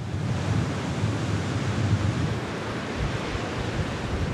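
Rough, windy North Sea surf along a Danish coast: a steady, full roar of breaking waves mixed with gusting wind buffeting the microphone, loud and continuous throughout with no voices.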